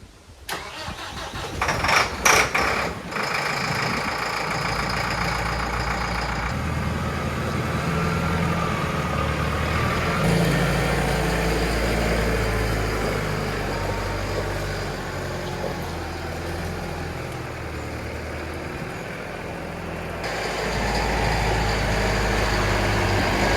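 A 5711M tractor hitched to a slurry tanker cranks and fires after a few loud starter bursts, then settles into a steady diesel idle that swells louder near the end.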